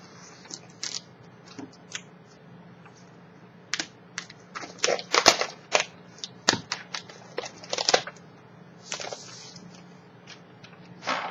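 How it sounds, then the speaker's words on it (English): Plastic wrapping is peeled off a cable at close range: scattered crinkles and clicky tearing come in irregular bursts, busier in the middle, with quiet pauses between them and no talking. "what I need to do is obviously take off the plastic"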